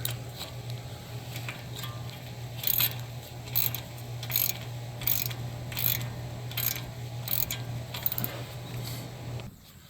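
Ratchet turning a 16 mm socket on the passenger-side CV axle of a 2013-2016 Dodge Dart, rapid bursts of clicking repeating roughly every half second over a low steady hum, close and without talk.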